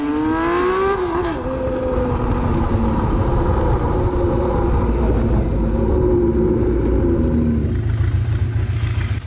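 A Honda CBX motorcycle's high-revving multi-cylinder engine screams loudly and continuously, its pitch climbing, dipping with a gear change, then climbing again.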